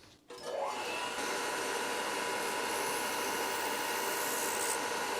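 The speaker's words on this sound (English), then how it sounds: "I'm just going to use the Clarkson with a diamond grinding wheel to make the sharp needle into a" A Clarkson grinder fitted with a diamond wheel starts up and runs steadily, a loud continuous whine and hiss as it grinds the point of a hypodermic needle, no talking.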